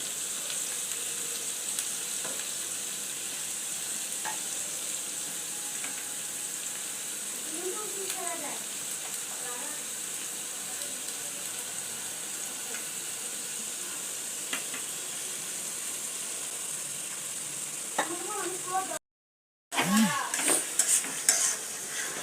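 Onion, ginger, garlic and green chili fry in a pan with a steady broadband sizzle, broken by scraping stirs and a brief silent gap, while a voice talks faintly underneath.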